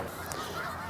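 Geese honking in a winter farm field in the Skagit area, a brief, moderately faint burst of calls over a steady background hum.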